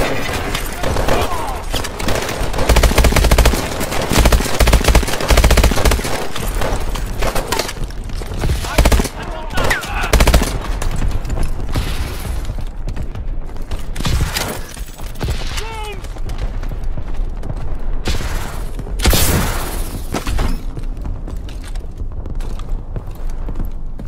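Heavy gunfire in Call of Duty: Advanced Warfare, dense bursts of automatic fire and explosions running throughout, loud and close, with voices talking over the battle.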